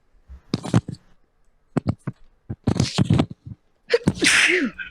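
A single loud, sharp sneeze bursts out near the end, preceded by a few seconds of quiet talking.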